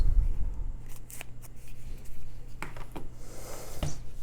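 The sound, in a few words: knife cutting open Warhammer 40K Leagues of Votann box packaging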